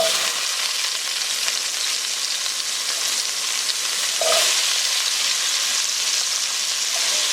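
Chopped christophene (chocho) sizzles steadily in a pot of hot oil over low heat for a Caribbean vegetable stew, a constant close hiss with a brief louder burst partway through, and no talking.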